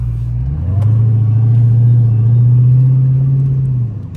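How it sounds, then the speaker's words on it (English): A Dodge Hellcat's engine revs up into a loud, sustained low droning hum with supercharger whine in sport mode that holds steady, then eases off near the end, heard from inside the car. "Hear the car or whatever. We in sport mode, by the way."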